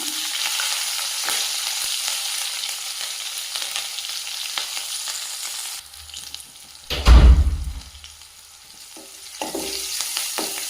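Curry leaves and green chillies fry in hot oil for beerakaya pappu, a steady hiss that drops away midway, then a loud short burst of spattering and a clatter before the quieter sizzle resumes.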